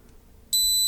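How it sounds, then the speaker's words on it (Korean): A drone flight controller's buzzer sounds a loud, steady electronic beep tone after a quiet lead-in, triggered on failsafe when an FS-i6 transmitter is switched off. "지금 이 FC에서 부저 소리는 들리는데"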